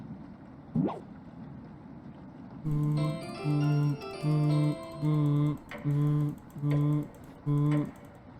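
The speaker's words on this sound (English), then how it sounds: "Sorry if my clicking picks up on the microphone." Rapid bursts of computer mouse clicking come in a regular rhythm of about one burst per second, close and fairly loud, with one brief knock or sniff just before they start.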